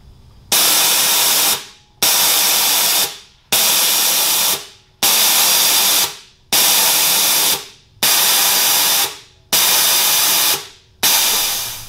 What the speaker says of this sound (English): we'd run a full test on all 64 of these air valves